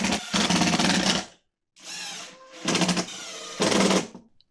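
Power driver sinking screws into wooden table saw fence parts held with glue and brads, three loud bursts of high-speed whirring separated by short pauses, close and alone.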